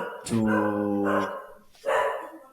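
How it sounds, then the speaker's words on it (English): A dog barks twice, close and loud, with a whimpering tone, during an indoor interview, with a brief word of speech overlapping. "Sorry for the my dog."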